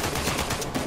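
AK-47 rifle fire in the video game Uncharted 4, a loud dense burst of rapid automatic shots filling the brief moment.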